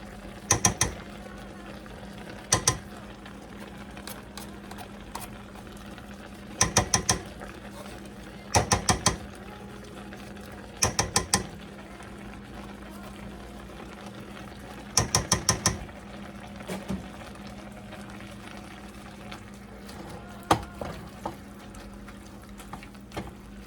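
A manual can opener works around a can of enchilada sauce in a home kitchen, giving short bursts of sharp ratcheting clicks repeated about ten times with pauses between, over a quiet background hum.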